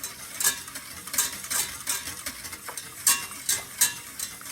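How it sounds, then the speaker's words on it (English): Two sticks of unsalted butter melt in a pan while being stirred, soft repeated scraping strokes with a faint sizzle underneath, fairly quiet and rhythmic, with no talking. "let's melt this down. And then once you get that melted down, just gotta keep stirring"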